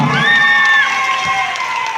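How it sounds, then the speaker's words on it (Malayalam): A crowd at a team prize-giving in Kozhikode, Kerala, cheers, applauds and shouts together in a steady, loud roar, with a high whistle-like tone rising over the noise early on. "അവർ ആവേശപൂർവ്വം സ്വീകരിക്കുക, കൈയടിച്ച് സ്വാഗതം ചെയ്യുക"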